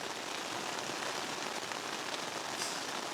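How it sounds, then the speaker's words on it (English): Heavy rain during a thunderstorm while camping, a dense, steady hiss of drops drumming on surfaces all around, continuous and fairly loud with no voices. "That is heavy rain."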